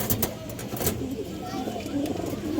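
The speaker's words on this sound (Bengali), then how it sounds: "পাকিস্তানি হাই ফ্লার একটা রামপুরি নর কবুতর" A male Rampuri pigeon, a Pakistani high-flyer, gives soft low coos close by, under someone talking.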